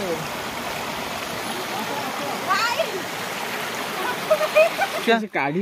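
Continuous rushing water from a waterfall on a hill at Saptasajya, Dhenkanal, Odisha fills the clip, loud and steady, with faint voices and a few bird-like chirps over it.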